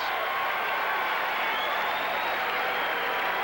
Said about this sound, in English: Crowd cheering not only the base hit, but for the fact that there wasn't an out, and gives Clemens yet a chance for another